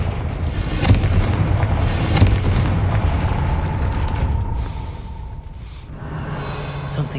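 Heavy booming blasts from a Confringo fire spell cast in Hogwarts Legacy, with two sharp impacts near the start and rumbling debris that fades into a steadier low hum.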